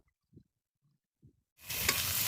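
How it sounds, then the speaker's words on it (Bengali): Ridge gourd with a little turmeric hits hot oil in a kadai and starts to sizzle loudly and steadily. A few soft stirring knocks come first, in near silence. "এক মিনিট মতন নেড়ে চেড়ে আমি এটা ভেজে নেব ভেজে তুলে নেব"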